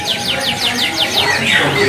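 A canary sings close by in rapid, repeated downward-sweeping trills that run on without a break.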